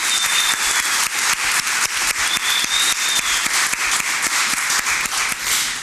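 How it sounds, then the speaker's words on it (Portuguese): An audience at a public hearing on university hospitals breaks into loud, continuous applause, with dense clapping and a few sharper individual claps standing out over several seconds. "Queremos pedir uma salva de palmas, inclusive para todos nós que estamos aqui"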